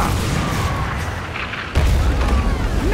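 Ship cannons fire during a naval battle in the Skull and Bones video game: a dense, continuous roar of gunfire and rumble, with a heavier boom striking about halfway through and loud barrages continuing afterward.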